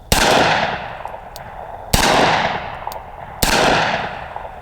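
Smith and Wesson 460 XVR revolver firing 45 Colt rounds at steel plates outdoors, three loud evenly spaced booming shots with long fading echoes and faint metallic pings between them.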